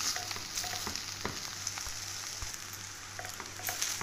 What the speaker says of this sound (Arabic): كده الرز لما بيتقلب كده في الزيت